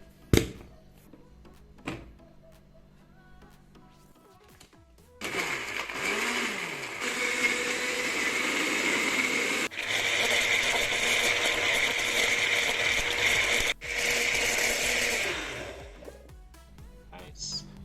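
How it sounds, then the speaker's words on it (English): A countertop blender purees a ginger marinade for Jamaican curry goat, starting after a few quiet clicks and handling, then whirring loudly and steadily for about ten seconds with a brief stutter before cutting off. "And we're ready to blend."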